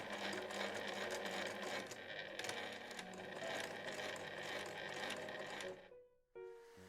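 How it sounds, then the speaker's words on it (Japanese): Sewing machine stitching a square across overlapped elastic at the join of cloth room pants, a fast close-up mechanical whir running steadily for about six seconds, then stopping with a short click and a brief pause. "それではゴムのつなぎのところ四角く縫っていきます"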